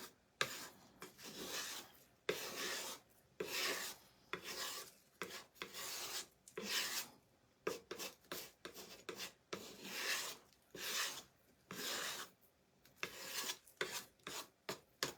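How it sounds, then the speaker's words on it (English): A scraping tool rasping across a craft Christmas tree in short repeated strokes, each a bright, dry scrape with brief pauses between, close and fairly quiet. "now we're going to use the scraping tool,"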